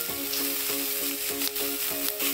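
Tofu added to a frying pan over a wood fire sizzles continuously, close and loud, with a rhythmic pulsing hum running beneath it.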